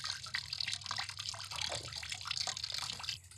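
Apple juice runs steadily from a hand-cranked cider press, a continuous splashing trickle into a bucket heard up close and alone, with no talk.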